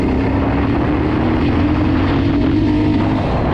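Geon X-Road Light 250 motorcycle from 2023 with about 2000 km, accelerating in third gear with a slight hesitation, its engine a loud steady drone with wind noise throughout, close and continuous.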